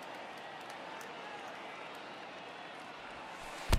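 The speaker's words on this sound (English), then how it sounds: "I can hear the crowd murmuring now" Steady stadium crowd murmur in the video game MLB The Show 20, a constant broad wash of many distant voices with no single standout, ending on a brief sharp knock.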